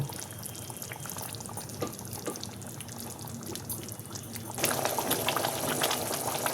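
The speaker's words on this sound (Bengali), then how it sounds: "এবার মাছগুলো আমি একে একে দিয়ে দেব।" Katla fish pieces go one by one into a pan for a Bengali yogurt curry with cashews and raisins, the quiet simmering bubbling rising into a louder, fuller sizzle near the end, close and without voices.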